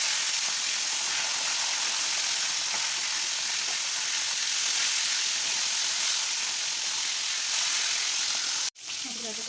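Pieces of katla fish frying in hot oil in a wok give a steady, dense sizzle and hiss that holds evenly, then cuts out abruptly just before the end.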